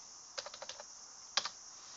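A computer keyboard being typed on in a quick run of about seven soft keystrokes, then a pause and one louder key tap, close and quiet with no talking.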